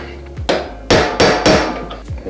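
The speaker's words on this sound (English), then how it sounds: "you can hammer it the rest of the way through" A hammer strikes metal pins into a flex coupling: four or five sharp, close taps at a steady rhythm, each ringing briefly, with no voices.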